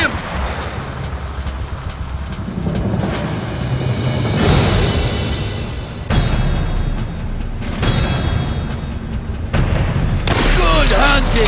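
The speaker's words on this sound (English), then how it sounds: "The patrols will surely have heard those shots." A sniper firefight in Call of Duty: World at War, with repeated heavy gunshots and booms punctuating a dense, loud battle ambience, under and between bursts of voice.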